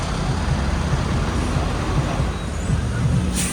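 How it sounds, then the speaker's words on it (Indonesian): Idling and creeping vehicles stuck in a long traffic jam on a road near Darajat Pass, Garut, a steady low engine rumble with faint mechanical thumps, moderately loud and free of speech. "Tuh macet panjang."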